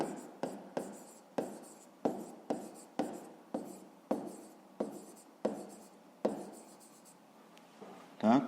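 Pen writing out a fifth-grade maths exercise on paper, a series of quick, close scratching strokes in an irregular rhythm, with a brief pause near the end.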